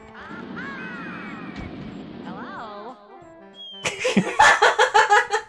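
Daffy Duck in a Nintendo 64 platformer gives a burst of rapid, loud cartoon quacks near the end, following squeaky cartoon voice sounds and game effects.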